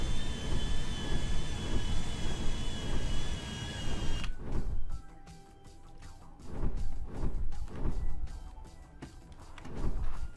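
An airplane in GTA V roars steadily with a high whine for about four seconds, then cuts abruptly to a pulsing series of rushing bursts and thumps that continue to the end, with no speech.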